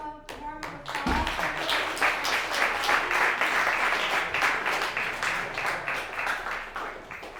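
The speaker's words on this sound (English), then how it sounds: "Can we give a round of warm applause?" An audience at an evening community event breaks into warm applause, dense sustained clapping that swells after a brief pause and keeps going loudly, with a voice over it at the start.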